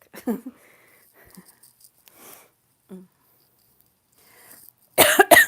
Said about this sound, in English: Sorry, I'm coughing again today.